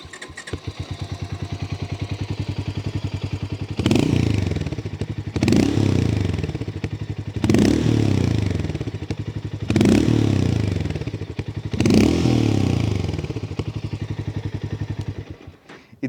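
A Harley-Davidson X440 single-cylinder motorcycle idling with a raspy, thumping exhaust, then revved in five sharp bursts at roughly two-second intervals, loud and close.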